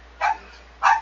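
A dog barks twice, two short sharp woofs about half a second apart, close and clear against a quiet background.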